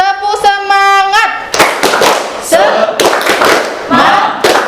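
A class of students claps in unison in short rhythmic bursts, loud and close, after a burst of children's voices chanting together.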